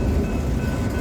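A long train rolls past on the rail line in Australia, a steady, loud low rumble with faint wheel clatter that fills the whole moment without a break, and no voices over it.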